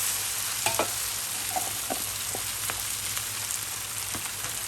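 Glass noodles with egg, spring onion and Chinese celery are stir-fried in a big pan, with a steady close sizzle and a few soft spatula taps and scrapes throughout and no talking.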